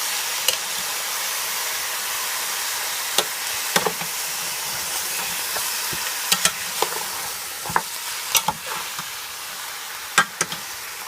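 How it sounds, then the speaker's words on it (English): Jamaican oxtail sautéing in a pot, stirred with a big spoon: a constant frying sizzle broken by scattered sharp clinks and scrapes of the spoon against the pot, close and fairly loud, with no voices. "Just gonna take a big spoon and just give it a stir."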